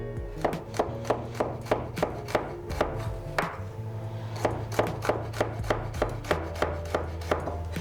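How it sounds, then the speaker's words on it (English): A knife finely slicing garlic on a cutting board, a quick regular series of crisp close taps in rhythm, with a short pause midway before the steady chopping resumes, no voices. "I'm just gonna slice it finely"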